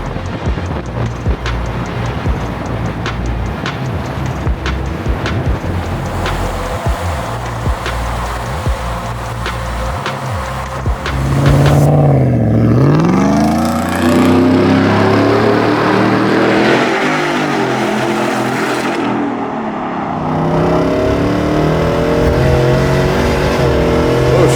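Ford Raptor R engine idling with a rough burble, then revving hard into a loud rising roar that holds and swells with strong exhaust rumble, close by and continuous.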